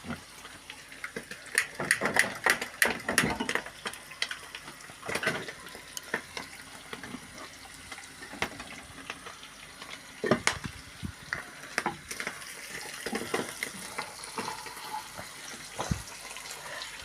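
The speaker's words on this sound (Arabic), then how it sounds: "بتحطوا بصل تحمروه نص تحميرة، وتروح حاطين اللحمة المفرومة" Minced meat fries with half-browned onions in a pan, sizzling quietly beneath repeated scraping and stirring knocks from a utensil, with a faint trickle of water in the background.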